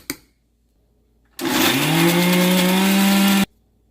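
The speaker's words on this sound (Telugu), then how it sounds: "ఒక కప్పు వేసుకొని ఇప్పుడు మిక్సీ నూరుకోవాలి మెత్తగా" A mixer grinder grinding thick ginger chutney whirs loudly for about two seconds, its motor pitch rising as it spins up, then cuts off abruptly, with silence before and after.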